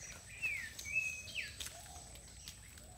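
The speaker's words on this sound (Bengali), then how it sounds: "পাখি, প্রচুর পাখি ডাক আপনারা শুনতে পাবেন।" Many birds calling around a small shrine in the Valki Machan forest, with faint, scattered high chirps and short whistled notes over a quiet background.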